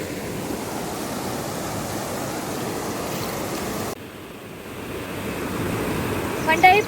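Muddy river water rushes after the first monsoon rain in Konkan, a continuous broadband roar of flowing water, steady and close, dipping briefly midway before building again.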